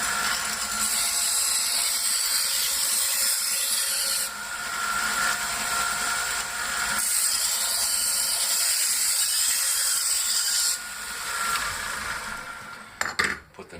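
A knife is drawn along the abrasive belt of a clamped sharpening system, giving a steady, close, gritty hiss in long strokes with short pauses between passes and a few small knocks at the end.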